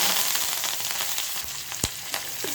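Spices and curry leaves tempering in hot oil in a pan while preparing a pearl millet and green gram dosa batter, giving a steady close sizzle and crackle with a couple of sharp pops.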